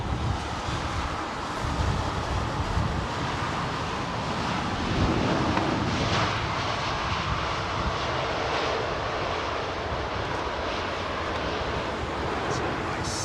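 Aircraft arriving on runway 27R at London Heathrow: a steady, loud, broadband jet roar that swells slightly mid-clip, blended with heavy wind buffeting on the microphone and no clear talking.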